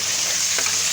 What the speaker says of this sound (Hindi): आलू हमने डाल दिए हैं बीच में आलू।